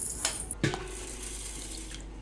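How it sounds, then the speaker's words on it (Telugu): Three cups of rice being rinsed in water for egg biryani, with a running tap and splashing water in a sink, two sharper splashes early on, then a steady wash, no talking. "నేను మూడు కప్పులు బియ్యం తీసుకున్నా ఇప్పుడు వీటిని మంచిగా కడిగి నానబెట్టుకుంటాను"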